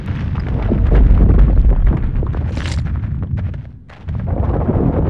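A dramatic enemy explosion in the Fallout video game, a loud, dense roar of blasts and booming bursts running the whole stretch, briefly dipping before another heavy rumble returns, with no talking.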